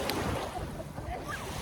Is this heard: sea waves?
yes